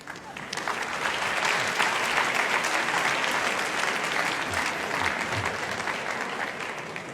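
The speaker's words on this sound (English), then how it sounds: "could you please welcome Mr. Cheedy." An audience claps loudly and continuously, a dense wash of applause that swells early and holds steady before easing slightly.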